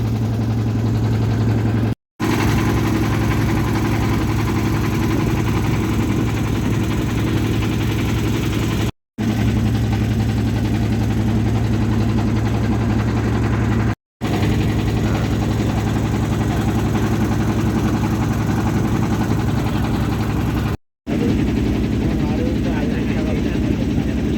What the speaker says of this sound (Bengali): আমরা কি দারুণ জায়গা দিয়ে আমাদের বোট এগিয়ে যাচ্ছে